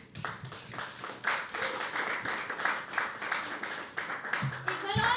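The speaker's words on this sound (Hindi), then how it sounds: "जोरदार तालियां आरुषि के लिए दोस्तों." Audience applause at a live poetry open mic after a reading, a steady wash of clapping from a room full of people that runs under spoken commentary throughout.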